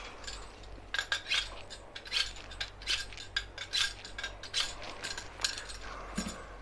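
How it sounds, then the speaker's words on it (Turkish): A kitchen knife is sharpened ahead of cooking beef, with a quick series of rhythmic metallic scraping strokes, close and clear with no voices. "Önce bıçağımızı bilemekle başlıyoruz."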